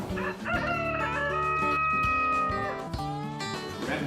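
A rooster crows loudly and close by, a long drawn-out call over busy background sound.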